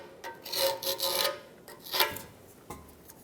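Metal debris is scraped off the exhaust flange gasket surface of a 1995-2004 Toyota Tacoma in a few short, close rasping strokes with small pauses between them.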